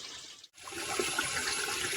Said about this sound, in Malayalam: നല്ലൊരു കാട് പോലെ തന്നെ അതിൻ്റെ ഇടയിൽ കൂടെ ഈ ചോല ഒഴുകണത്